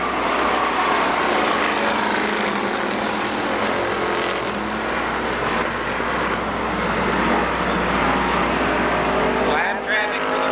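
Race cars roar continuously around the Columbus Motor Speedway oval during the 1994 season opener, a dense, loud engine drone with passing swells, under a track announcer's play-by-play commentary.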